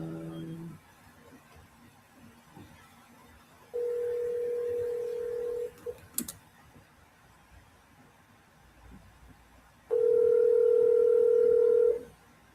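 Telephone line tones during a call: two long steady dial tones separated by a quiet stretch with a brief click, faint background hiss in between, no talking.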